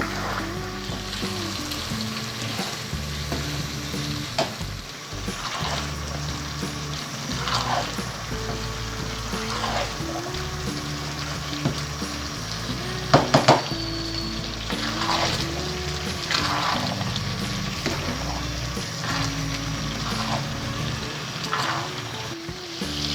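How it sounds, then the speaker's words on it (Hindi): Grated carrot halwa cooking with cream in a pan, sizzling and bubbling steadily while being stirred, with periodic scraping sweeps of the spoon, close and continuous without speech. "अब मलाई को अच्छी तरह इसमें मिक्स करके पकाएं।"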